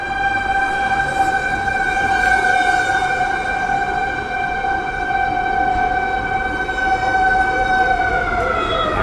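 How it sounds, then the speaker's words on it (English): A loud wailing siren holds steady tones for the whole stretch, with an emergency vehicle's call dominating over a dense hum of city traffic in Lima, Peru. "The sirens are always going."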